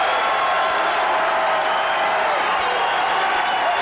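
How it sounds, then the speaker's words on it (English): A college basketball arena crowd cheers during a Pitt Panthers at Boston College Eagles game, a loud, sustained roar of voices and whoops filling the space continuously. "And the crowd very much into it now."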